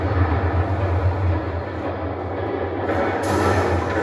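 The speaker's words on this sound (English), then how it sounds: "There's a train coming. Take cover." A train rumbles steadily past in a Batman: The Telltale Series game scene, a low, continuous roar with a brighter metallic hiss joining near the end, with no one talking.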